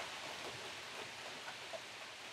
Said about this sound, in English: It's raining here in the wilds of Connecticut.